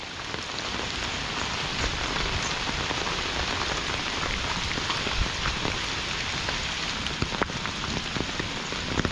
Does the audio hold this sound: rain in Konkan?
yes